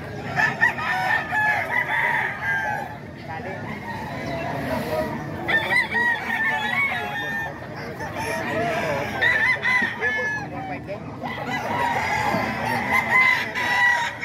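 Several Milsim Black gamecock roosters crow repeatedly at a poultry market in Bocaue, overlapping calls rising in bursts across a busy background with some clucking and faint voices.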